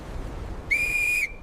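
One short, shrill whistle blast lasting about half a second, clear and close over a soft background hiss, with no voices during it.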